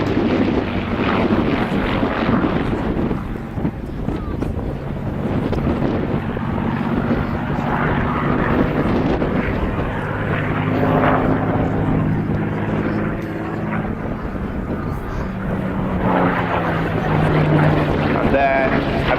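A Blenheim propeller plane's engine drones loudly and continuously overhead during aerobatic barrel and aileron rolls at a Bicester display, its pitch rising and falling as it maneuvers, with a commentator talking over it.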